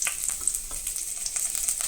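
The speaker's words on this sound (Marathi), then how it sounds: "अशें तेल एड करता, तेज्या मागीर सासवां एड करता" Mustard seeds crackle and sizzle in hot oil for a Goan white peas usal, a fast, dense spattering of tiny pops, close and fairly quiet, with no talking.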